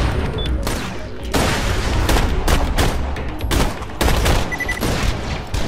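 Rapid gunfire from the video game Borderlands: The Pre-Sequel, loud bursts of shots and booms following one another in quick succession throughout, with no talk over them.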